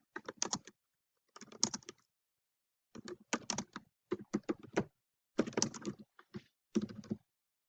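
Bursts of typing on a computer keyboard, close and clear, coming in several quick clustered runs separated by short pauses, with no talking.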